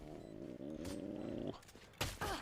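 Dog ability in Valorant, a low rumbling growl for about a second and a half, followed by short sharp bursts, moderately loud over quiet game noise.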